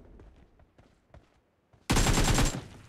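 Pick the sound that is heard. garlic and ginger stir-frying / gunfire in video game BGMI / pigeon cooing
gunfire in video game BGMI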